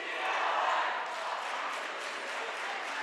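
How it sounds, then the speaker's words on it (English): Crowd noise at a high school boys basketball game between Oregon and Stoughton, a broad steady roar of voices and cheering from the stands, filling the whole span at even loudness. "Now you can hear it from the crowd, the O-R-E-G-O-N chants"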